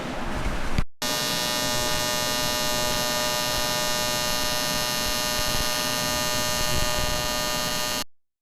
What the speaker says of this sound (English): let's try weld this one up